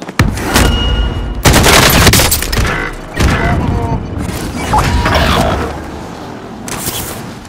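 Heavy gunfire in the Call of Duty Warzone video game, with loud bursts of automatic shots and booming impacts that rise and fall across the stretch, with no talk over them.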